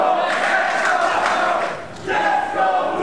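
A wrestling crowd at an Unlimited Wrestling show cheers and shouts loudly and steadily, dipping briefly before surging again.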